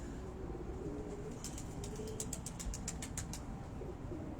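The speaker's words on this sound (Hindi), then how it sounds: "अब इस कबूतर का आप जरा थोड़ा सा स्ट्रक्चर देखें, ये मादा है मलक साहब। अब ये लाखी मादा है" A female Lakhi pigeon gives soft, repeated coos in a quick series in the middle of the stretch, over steady low background noise, with no one talking.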